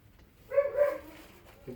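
A dog gives a short, whiny bark-yip at close range, two quick tonal bursts followed by a faint grunt, in an otherwise quiet room.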